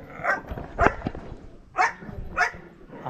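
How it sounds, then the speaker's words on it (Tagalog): A big dog barks four times in spaced, loud, close-up woofs, with a bit of background noise between barks. "Aso, grabe laki."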